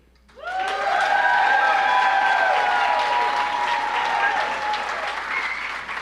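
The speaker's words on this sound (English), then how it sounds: "And who here, by applause, thought that Carmen's argument, even though it lacked both a PowerPoint or video, is hands down the winner of the day?" Loud audience applause fills a comedy debate show as the crowd votes for a winning argument, rising sharply and holding steady with cheers and some whooping above dense clapping.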